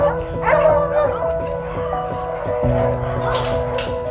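Rescued beagles bark and yip in a lively, overlapping chorus, close and loud, with whiny, howling notes mixed in among the short barks.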